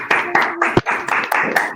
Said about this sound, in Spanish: Vamos a aplaudir, aplaudamos y nos vamos.